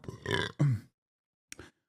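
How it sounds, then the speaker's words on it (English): A loud, deep burp captured close on a Shure SM7B microphone, a sustained guttural belch ending in a low rumble, followed after a short silence by a brief grunt. "Damn, the SM7B really captures the base of that burp."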